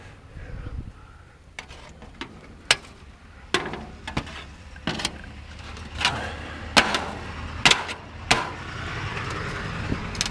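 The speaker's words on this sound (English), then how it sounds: "that's where your hammer comes in handy" Sharp hammer strikes ring out irregularly while tearing out soffit and fascia, a dozen or so knocks and bangs on wood and metal, some louder than others, with quiet gaps between.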